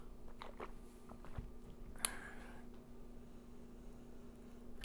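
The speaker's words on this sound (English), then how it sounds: "I'm going to drink another sip of water" Quiet, close-up mouth sounds of someone sipping water, with a soft wet slurp near the middle and faint swallowing noises in a still room.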